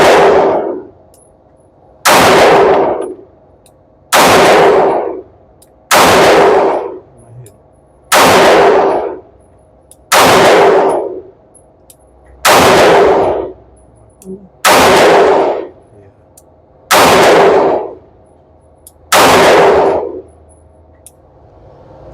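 Pistol shots fired at a target using iron sights ring out as ten sharp, loud reports at roughly two-second intervals, each followed by a brief ringing decay.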